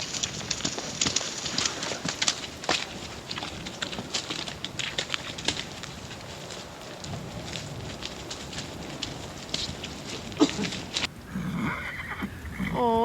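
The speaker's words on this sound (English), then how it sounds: "Oh, look at the horses, they're wet." Wet horses on a trek in the Snowy Mountains of New South Wales, heard as steady outdoor clatter and shuffling of hooves, with a whinny near the end against a busy, noisy background.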